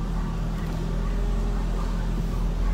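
A car on newly fitted RPF1 wheels pulls away slowly, its engine giving a steady, close, low droning rumble with a faint hum running throughout.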